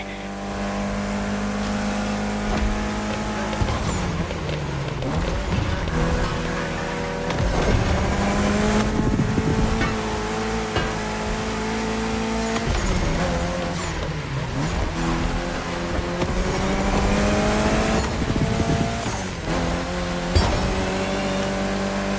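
A Mitsubishi Lancer Evo X engine in the racing game The Crew Motorfest revs up and down through repeated gear shifts, with a steady loud drone, occasional tire squeal and no talking.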